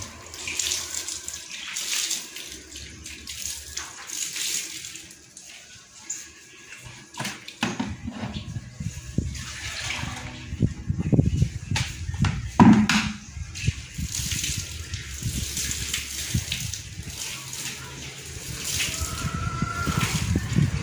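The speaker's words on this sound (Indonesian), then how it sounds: "Setelah disiram secara merata di keseluruhan permukaan" Water poured over fermenting banana stems prepared as pig feed, a steady splashing pour that swells and sloshes, loud and close, with brief pauses between passes.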